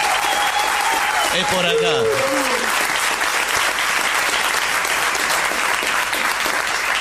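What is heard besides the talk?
audience applause and cheering greeting a comedian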